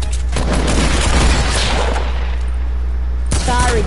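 Gunshots in the Roblox game Playground sound as a loud burst of rapid firing at the start, then fade into a muffled rumble, with a voice cutting in near the end.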